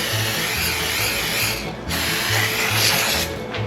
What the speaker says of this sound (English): We're gonna spray the inside of the crock pot with some spray oil.